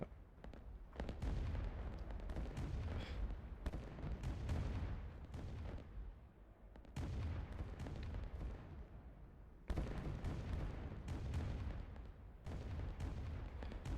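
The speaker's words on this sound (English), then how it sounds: "Hey, artillery?" Artillery fire in the Rise of Nations strategy game, with repeated heavy booms and rumbling blasts rolling in clusters at a steady, moderate level, separated by a couple of brief lulls.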